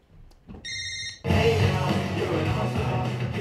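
Telephone ringing in repeated electronic trills with steady tones, close and fairly loud, followed by a burst of dense noisy sound and clatter.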